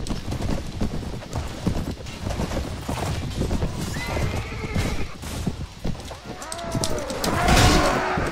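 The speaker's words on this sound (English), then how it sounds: "Now there's a horse standing right there." In the game Mount & Blade Warband, horses neigh loudly, with a clear whinny near the end, over clattering clip-clop hoofbeats and battle noise.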